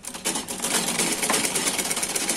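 An electric sewing machine runs steadily while double-stitching a trouser seam, a continuous buzzing whir of rapid needle strokes that holds close and even for the whole stretch.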